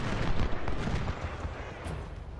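Artillery and gunfire in a Civil War battle in Ultimate General: Civil War roll as a dense, continuous barrage of overlapping booms and cracks, loudest early and easing slightly, with no talk.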